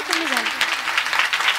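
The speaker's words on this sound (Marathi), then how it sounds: "झाल्या टाळ्या जोरात वाजवा" Audience applause at a Marathi kirtan, a dense wash of clapping from a crowd that runs through the whole moment, with a short voice sweeping across it near the start.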